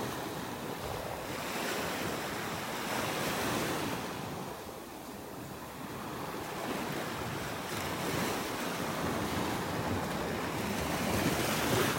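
Ocean surf rolls continuously onto the undeveloped beach at Delnor-Wiggins in North Naples, Florida, a broad steady roar of breaking waves mixed with buffeting wind noise on the microphone.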